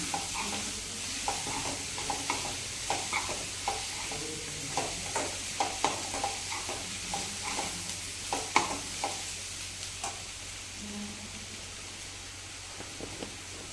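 Colocasia leaves and vegetables are stirred in a sizzling pan, a spoon scraping in steady repeated strokes over a continuous close frying hiss, with no voices.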